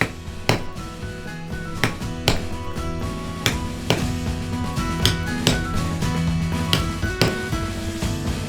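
A rivet setter sets rivets in a run of sharp metallic strikes, roughly one a second, each a bright clack over a soft background hum, close and clear with no voices.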